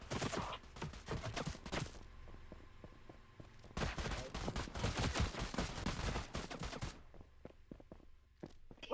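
Gunfire erupts during a police pursuit, rapid bursts of sharp cracks clustered in two dense volleys separated by a quieter gap with a low hum, close and loud, with a final shot at the end.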